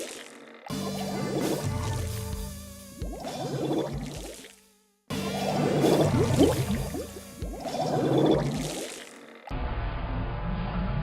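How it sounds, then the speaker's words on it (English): Inklings shaking off ink in the Splatoon 2 video game make wet, squishy splashing bursts in several separate segments, loud and close, with short gaps between them and no talking. "show you the difference side by side in slow motion and in normal motion of the Inklings shaking off the ink"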